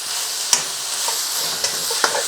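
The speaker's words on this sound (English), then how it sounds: "I'm going to add our baby sweet corn in. And we can start to fry that off." Baby sweet corn stir-frying with chicken and mushroom in a hot pan: a steady loud sizzle runs throughout, broken by a few sharp scrapes and clicks as the ingredients are tossed.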